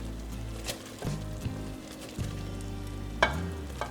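Gouda stirred into mac and cheese in a hot pan over medium-low heat, giving a soft steady sizzle with occasional wet clicks and scrapes, close and quiet with no talking.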